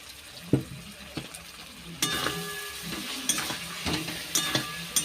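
Fried potatoes and cashew paste added to spiced masala for Kashmiri aloo dum, stirred in a pan with clattering spoon scrapes and a steady sizzle that grows louder after the additions, close up and without speech.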